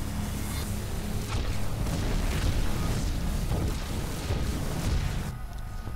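Base buildings blow up in a StarCraft II match, producing a run of deep, rumbling booms and crashing blasts layered over one another, loud throughout and easing off at the very end.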